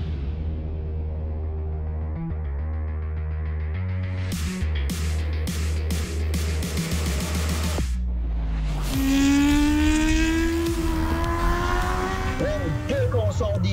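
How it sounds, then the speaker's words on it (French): Rally kart engine pulling hard out of the pits, revving up through quick gear changes with a steady droning note that climbs in pitch, loud and close throughout. "Dès qu'on sort des puits, qu'on met le pied sur l'accélérateur, c'est absolument impressionnant. Les vitesses se passent rapidement"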